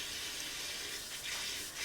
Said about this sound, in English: I'm gonna wash my hands right quick. Come on, faucet.